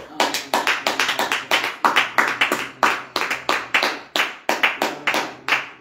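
A church congregation at morning prayer claps together in a steady rhythmic beat, loud and close, sustained throughout with brief gaps between bursts.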